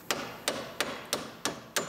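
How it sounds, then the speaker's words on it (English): Six evenly spaced hammer blows ring out as a drive axle is knocked from the steering knuckle of a wrecked Pontiac Grand Am, sharp metallic strikes close by with no talking. "we can hammer the drive axle out of the knuckle"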